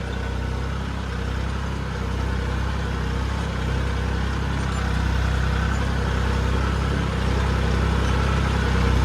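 A tractor engine drones steadily while working an uneven field, a continuous low rumble at constant loudness with no breaks, heard alone.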